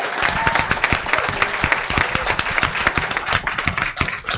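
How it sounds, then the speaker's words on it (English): At a school district governing board meeting, a room of people gives a vigorous final round of applause, dense and steady with sharp individual claps and some crowd noise underneath. "So one last round of applause,"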